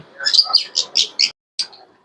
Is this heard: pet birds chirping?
yes